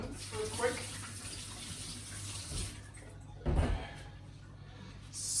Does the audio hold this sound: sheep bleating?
no